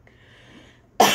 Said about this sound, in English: I'm starting to cough again.